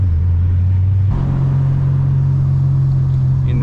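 A Ford Mustang GT idles with its exhaust cutout, giving a steady, loud low rumble that deepens and thickens partway through, close by and with no talk over it.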